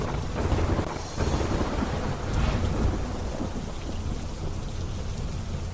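Torrential monsoon rain lashes Dwarka in a thunderstorm, a loud steady downpour hissing on surfaces while thunder rumbles and cracks, with no one speaking.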